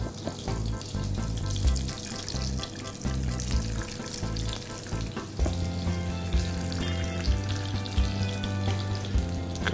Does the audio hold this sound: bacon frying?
yes